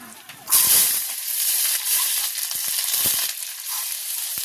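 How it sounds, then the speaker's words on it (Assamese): A sudden loud sizzle bursts in as oil hits a hot wok for cooking vegetables, then settles into a steady hiss with faint crackles. "তেলটো দি লওঁ কেৰাহী গৰম হ'ল"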